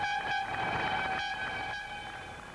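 Train pulling into Folkestone at the Channel Tunnel: loud, steady hum of a traction motor with pulsing tonal whine from rolling wheels, no voices.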